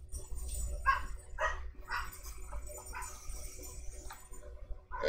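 Dogs bark at an outdoor dirt track during a Daytona 125 race meeting, a string of faint, distant yips and barks over a low rumbling background.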